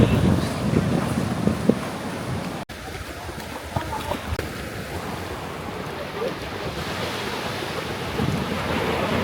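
Sea waves wash onto a beach in Goa, a steady broadband roar of surf with gusts of wind buffeting the microphone throughout, loud and close, with a brief dropout near the start.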